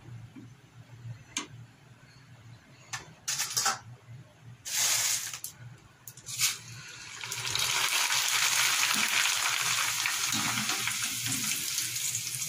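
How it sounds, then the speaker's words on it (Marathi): Corn kernels frying in hot oil for chivda, with scattered sharp ticks and pops early on, then a loud, continuous rushing sizzle building up and filling the last few seconds. "हे तुम्ही पाहू शकता, तेल छान तापलेलं आहे। मस्त पटकन फुलून मक्याचा दाणा वरती येत आहे।"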